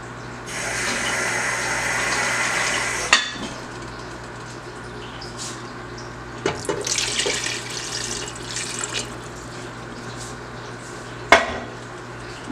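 Tap water gushes into a pot for Bajan-style oxtail stew in a steady run of a few seconds, then stops, followed by scattered clinks of pot and utensils and a second short splash of water.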